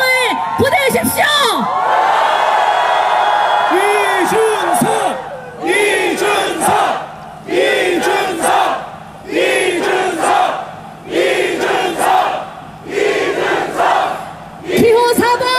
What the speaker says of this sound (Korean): 여러분 더 큰 함성을 보내주십시오.